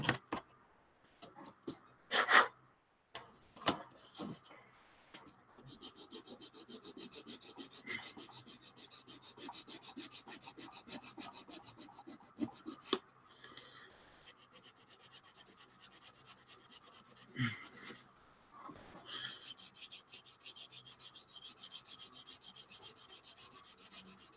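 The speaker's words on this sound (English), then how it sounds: "Everything this week has been sanding." Close, continuous rasping of sandpaper rubbed back and forth over a hard plastic model, with brief pauses and a few knocks between strokes.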